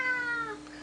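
A cat gives a single drawn-out meow, close and clear, with a falling pitch toward the end and no talking over it.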